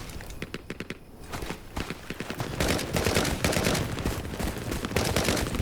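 Machine gun fire in the Vietnam-era shooter Hell Let Loose: Vietnam, with short bursts of rapid shots early on and denser, louder sustained firing building through the second half, mixed with battlefield noise.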